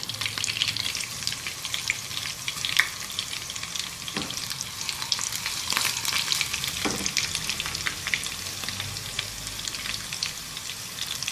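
Red and green chillies with black cumin sizzle steadily in hot oil as a tempering for Pakistani khatti daal, a continuous close crackle with a few sharper pops and no talking.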